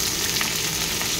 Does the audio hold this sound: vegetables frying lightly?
yes